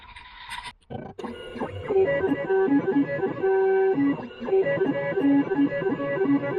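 A Silca Futura key machine cutting a key gives a loud, close mechanical whir with shifting motor tones, steady and unbroken after a short start-up clatter.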